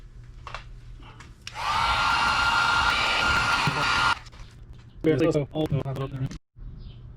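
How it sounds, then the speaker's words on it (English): A heat gun blasts hot air in a workshop during a 2018 Yamaha YZ65 rebuild, a loud steady whooshing roar for about two and a half seconds, then someone talks after it shuts off. "Heat gun."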